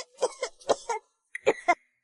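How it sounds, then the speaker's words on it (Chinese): A character in an animated costume drama coughs uncontrollably from an itchy throat. Five short, dry, close coughs come in two quick bursts with a brief pause between them. "嗓子太痒了，止不住的咳嗽。"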